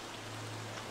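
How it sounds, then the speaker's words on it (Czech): Steady rain hisses as a soft, even wash of noise in the video game Don't Starve: Reign of Giants, quiet and continuous with a low hum beneath. "Přestalo pršet, nepřestalo."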